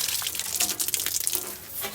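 Loud, steady hiss of water spraying onto a degreased 1947 Detroit Diesel 6-71 bus engine, a continuous close rush with slight surges and splatter throughout and no talking.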